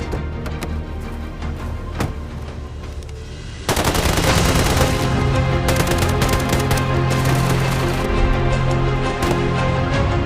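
Gunfire in a soldiers' shootout, rapid automatic bursts and sharp shots that grow much denser and louder partway through, forming a continuous close barrage.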